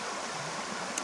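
Creek water flows steadily along Brookshire Creek Trail in the wilderness, a constant broad rushing wash that stays close and fairly quiet with no voices.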